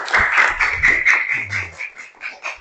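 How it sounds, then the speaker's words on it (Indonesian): Classroom applause, a small group clapping in a brief ragged patter that fades over a couple of seconds, with a short voice in the middle. "Tepuk tangan."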